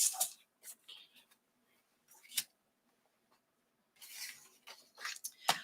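A bone folder or stylus scores paper on a scoring board at the half-inch mark, several short scraping strokes, close and fairly soft, separated by brief silences.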